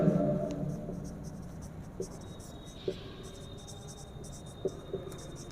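Pen writing a thermodynamics heat-of-reaction formula: soft scratchy strokes with a few faint taps, quiet and close, over low room hum.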